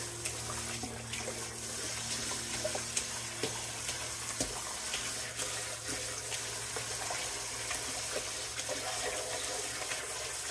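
A wool cloth diaper cover is swished around in water to rinse out soap, giving a quiet, continuous sloshing and watery churning with faint splashes throughout.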